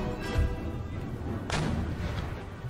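Artillery guns in Empire Total War fire in a couple of muffled, distant booms over a steady battlefield rumble, with no clear talk over them.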